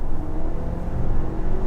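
Audi Q5 Sportback with 265 PS pulling hard in sport mode, a steady low engine drone and road rumble inside the cabin, fairly loud and even throughout.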